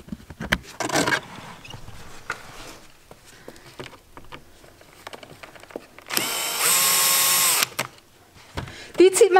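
A power screwdriver whirs in short bursts and one longer loud run while screws come out of a BMW E36 interior side trim panel, with quiet handling clicks between and a voice talking over parts of it.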